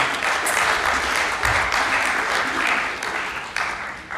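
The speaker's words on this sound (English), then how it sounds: "another round of applause for Zion" An audience at the Pasifika Fusion 2023 event in the Regency Room claps steadily, a loud, even burst of applause with slight swells that holds throughout and fades a little at the end.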